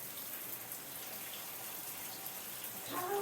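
Shower water runs steadily over houseplants indoors, a soft continuous hiss at low level, with a brief brighter splash near the end.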